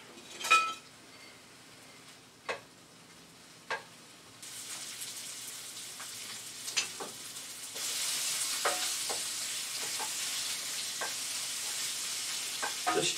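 Ground beef fries in a hot pan for a beef penne pasta casserole, starting with a few sharp utensil clinks before a soft, steady sizzle sets in and then grows brighter and louder, stirring clicks scattered over it.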